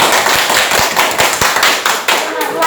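A classroom group claps together in a few close, rhythmic rounds, near and fairly loud, with voices faintly mixed in beneath the hand claps.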